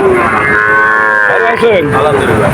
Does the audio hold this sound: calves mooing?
yes